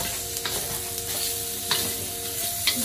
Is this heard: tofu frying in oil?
yes